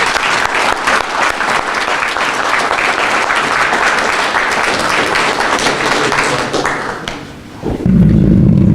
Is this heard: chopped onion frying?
no